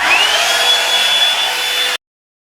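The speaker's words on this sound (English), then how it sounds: "we're just gonna go right in with the blow dryer and see how it does" Handheld blow dryer running steadily on washed, conditioned, detangled short 4c hair, a loud close whooshing roar with a thin high whine, cutting off abruptly after about two seconds.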